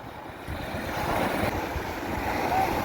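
Sea waves breaking on the shore at a Kuwait beach with rough water and swimmers, a steady rushing wash mixed with wind noise, moderately loud and continuous.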